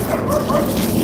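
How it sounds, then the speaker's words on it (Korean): A small dog barks and whimpers in short yips indoors near a blueberry greenhouse, close and fairly loud over steady background noise, eager to go outside. "우리 강아지가 인사를 하는 거예요."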